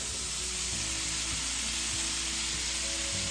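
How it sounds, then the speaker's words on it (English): Steady, crackling sizzle of bacon and butter frying in a pan, a continuous hiss with a low hum underneath and no talking. "I've got the bacon and the butter frying with it"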